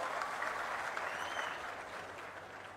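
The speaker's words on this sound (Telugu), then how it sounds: "గట్టిగా చప్పట్లు కొట్టి అందరూ అభినందించాలి" Crowd applause at a public meeting in Narasannapeta with Chief Minister Chandrababu Naidu, sustained and dense but somewhat distant and soft, slowly tapering toward the end.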